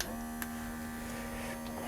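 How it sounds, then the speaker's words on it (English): A vacuum sealer pumps air out of a jar used for storing dehydrated frozen vegetables, giving a steady electric motor hum with a constant tone that runs through the whole stretch, unchanging and alone. "that is supposed to vacuum the air out of the jar"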